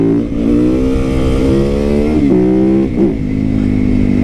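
A motorcycle engine revs loudly up close, its pitch climbing and dipping in a few throttle blips over a steady rumble.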